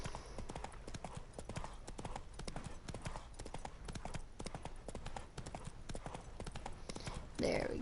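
Roach, the horse in the video game Witcher 3, galloping in a fast, even clip-clop rhythm that runs throughout, quiet and steady, while someone talks over the hoofbeats.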